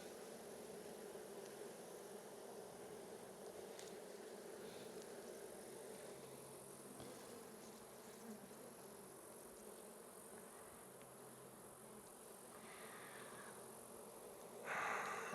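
Agitated honey bees hum loudly in an open Langstroth hive, a dense continuous buzzing drone close to the microphone that stays steady throughout with no talking.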